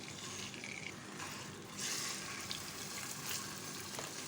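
About a kilo of mutton sizzles steadily in a pan with fried whole spices for a smoky yogurt gosht, a dense close hiss that swells briefly partway through, with faint clinks and no talking.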